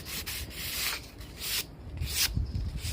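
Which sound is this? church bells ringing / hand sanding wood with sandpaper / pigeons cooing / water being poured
hand sanding wood with sandpaper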